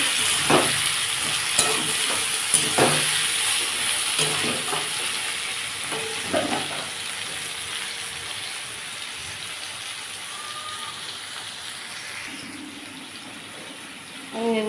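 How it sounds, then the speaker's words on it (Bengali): Vegetables for a gourd-greens dish with fish head fry in a pan, giving a steady close sizzle with repeated stirring scrapes and clicks of a spoon; no talking. "দেখুন আমার সবজিগুলো অনেকটাই ভাজা হয়ে গেছে"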